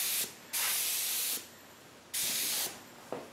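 Spray gun laying down the first coat of paint on a snow hog, with two long bursts of loud, steady hissing spray separated by quieter gaps and a brief third burst at the end, heard alone.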